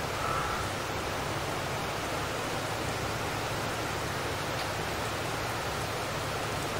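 Steady Farming Simulator 22 rain hisses without pause, an even, dense wash of falling water holding constant loudness with no voices over it.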